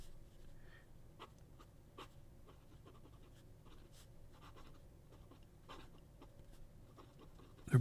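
A fine-nib fountain pen scratches across paper in soft, intermittent strokes, faint and close in a quiet room with no talk.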